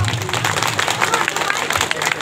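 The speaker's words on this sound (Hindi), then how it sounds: "तालियां बजा दीजिए।" Audience at a political speech gathering applauding, a continuous dense patter of many hands clapping at fairly close range, with a murmur of crowd noise underneath throughout.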